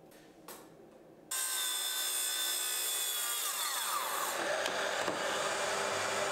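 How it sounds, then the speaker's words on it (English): Hand tool hacking and rasping at a wooden cabinet workpiece, a brief faint knock, then a sudden loud, steady scraping grind that continues to the end. "I've basically been scribing and hacking away at this workpiece, and it's almost a perfect fit now."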